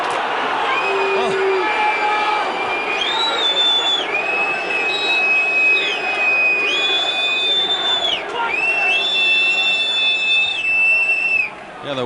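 Shrill whistles from a football crowd at a Burnley v Wigan Athletic match in 2000, several long sustained blasts repeating over a steady roar of crowd noise, with a commentator talking over it.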